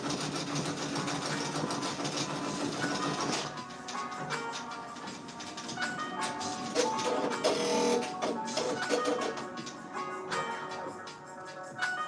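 An embroidery machine stitches out a bear patch with a fast, steady mechanical chatter and rapid needle rhythm, close and continuous, with a brief shift in pitch partway through and no speech.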